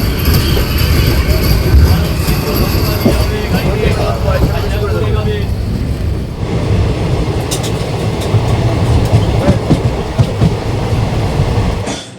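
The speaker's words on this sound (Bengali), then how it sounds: "তো বন্ধুরা এখন ট্রেন শিয়ালদা স্টেশনে ঢুকছে।" Ranaghat–Sealdah local train entering Sealdah station, a loud close rumble and clatter of wheels on rails heard from beside the open door, with rattling carriage noise, brief squeals and a voice talking over it.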